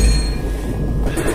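A southbound train rolls past with a loud, continuous low rumble and faint metallic clinks, steady throughout.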